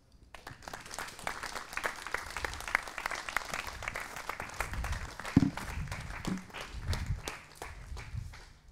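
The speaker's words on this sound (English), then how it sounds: "I will ask you for a big round of applause for our guests" An audience gives guests a round of applause in a hall, with dense, continuous clapping that swells and holds, and faint voices briefly underneath.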